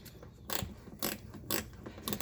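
Ratchet wrench loosening a bolt during a trailer hitch installation on a 2021 Chevrolet Traverse, heard as four short, close bursts of rapid clicking evenly spaced about half a second apart, with no talking.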